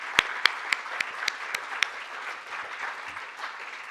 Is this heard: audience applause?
yes